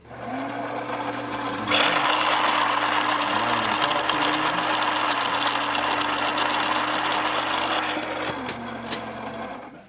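Gaggia Brera coffee machine's newly replaced grinder running after repair, a steady close mechanical whir and buzz lasting several seconds before winding down, with no talking.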